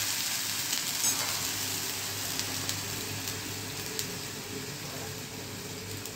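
Spices tempering in hot oil for a Gujarati vaghar give a steady, soft sizzle with faint crackles and pops that run evenly throughout, close by, with no talking.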